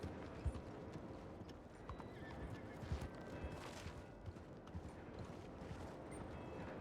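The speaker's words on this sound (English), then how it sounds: "That's a nice horse you got there." A horse moves nearby with quiet clip-clop hoofbeats and a neigh, faint against low background noise.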